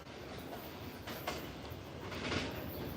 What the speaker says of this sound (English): The train that has gone by is going back to Ashmont.